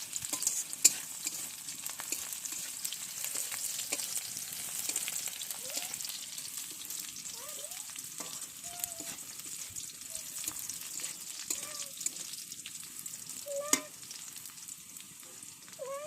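Fish fry in a pan with a soft, continuous sizzle and occasional stirring clinks and scrapes, while faint chirpy squeaks come and go in the background.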